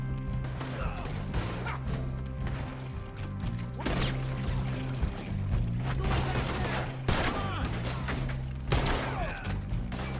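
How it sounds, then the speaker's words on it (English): Gunshots and clattering mechanical action in Red Dead Redemption 2 during a riverboat shootout, with irregular sharp cracks and metallic clanks repeating over a steady low background. "I was wondering who was shooting at me."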